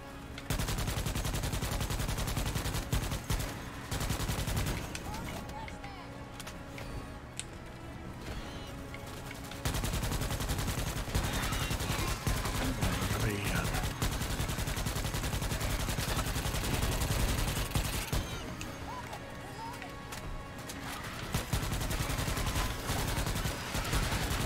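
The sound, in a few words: gunfire from a video game, covering fire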